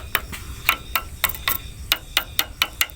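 Fired clay bricks struck together at a brick kiln, giving a dozen sharp, ringing clinks in an irregular rhythm, close and fairly loud over a low background hum.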